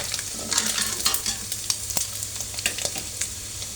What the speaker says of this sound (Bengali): হলুদ আর লবণ দিয়ে চিংড়িটাকে আমি ভালো করে ভেজে নেব।